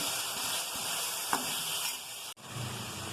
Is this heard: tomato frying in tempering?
yes